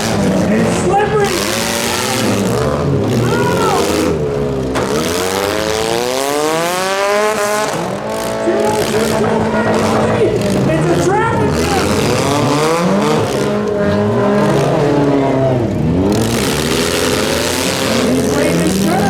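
Demolition derby cars race on a figure 8 track in Drayton, Ontario, their engines roaring and revving continuously with tire squeals, under an excited announcer talking throughout.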